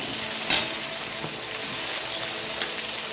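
Eggplant and tomato fry in a pan in a Bengali home kitchen, a steady close sizzle with a brief sharp clatter of stirring near the start.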